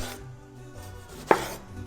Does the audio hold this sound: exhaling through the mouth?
no